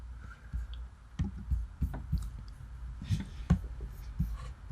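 Keys clicking on a computer keyboard while entering a PowerShell command, irregular soft taps and clacks at close range, quiet and alone with no talking.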